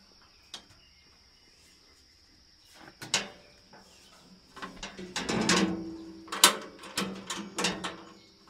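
A sawmill band blade is turned by hand to check its tracking, giving a run of quiet mechanical clicks and ratcheting knocks that build into busier rattling bursts, close by with no talk.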